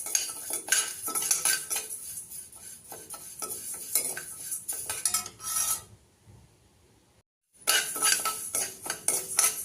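Rice dry-frying in a pan for idli podi, stirred with a spatula that scrapes and clinks against the metal in quick repeated strokes, close and fairly loud, with a brief lull before stirring resumes.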